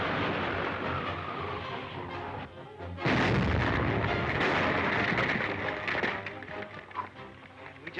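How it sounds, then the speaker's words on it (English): A loud blast erupts in a tunnel in an old 1937 adventure serial, a sudden heavy boom after a quieter rumbling stretch, then sustained roaring debris and rumble that slowly fades with scattered crackles. "Spider will think we've been killed by the explosion"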